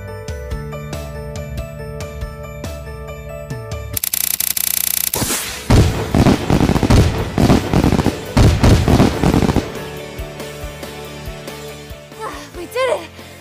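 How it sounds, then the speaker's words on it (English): Video game fireworks being lit and set off in quick succession, a dense run of loud crackling bursts and pops in the middle, with game music before and after. "Grab as many fireworks as you can and light them off."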